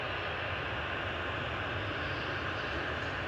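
Propeller airliners from Loganair and Aer Lingus Regional arriving at Manchester Airport make a continuous low engine drone at moderate distance, steady and unbroken, with no voices.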